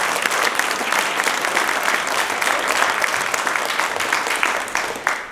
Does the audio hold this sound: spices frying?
no